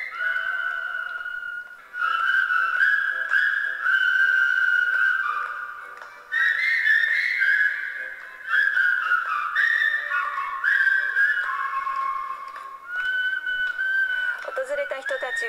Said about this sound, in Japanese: 訪れた人たちは指と口だけで奏でられる音楽に感心したように聞き入っていました